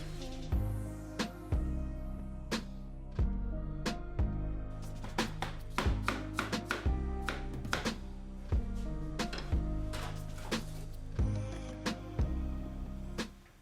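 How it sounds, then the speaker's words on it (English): A knife slices peaches for jam on a cutting board, making a steady run of close, sharp chops and taps in an irregular rhythm over a low background bed of music. "You can slice the peaches into cubes or long if desired."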